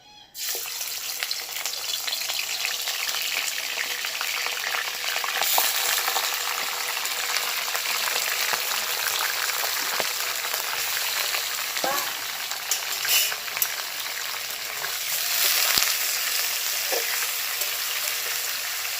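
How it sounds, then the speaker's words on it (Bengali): Barramundi fish head and bones frying in hot oil for a traditional bony-fish curry, a steady loud sizzle and crackle running without a break, with occasional pops and faint stirring clicks. "মাছের মাথা কাটা সব ভাজা হয়ে গেছে"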